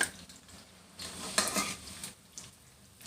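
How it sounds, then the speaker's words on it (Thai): Small sweet fish frying in a pan of oil: a steady, soft sizzle with crackling swells and faint clinks of a utensil moving through the pan. "ทอดได้ง่ายจ้ะปลาพวกนี้"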